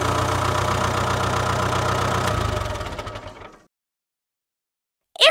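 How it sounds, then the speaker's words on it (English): Tractor engine idles with a low, knocking rumble, steady and close for a few seconds before fading out into silence. "Tractor."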